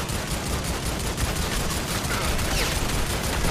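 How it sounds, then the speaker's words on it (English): Minigun fire in the Army of Two video game: dense, continuous rattling gunfire with heavy low rumble, sustained and loud across the whole stretch with no talking. "we'll fear the minigun"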